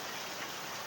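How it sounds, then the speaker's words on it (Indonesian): Rain pours down steadily while children play out in it, a dense, even hiss of falling water with no voices over it. "Ya, ini kakak Gio bocil hujan-hujanan."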